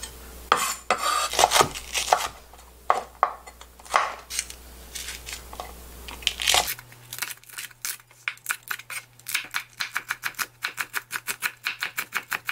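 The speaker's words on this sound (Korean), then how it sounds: "이런 식으로 다져서 좀 준비해 놓겠습니다" A knife chops green chili peppers on a board, fast irregular knocks at first and then a quick, even run of sharp taps up close.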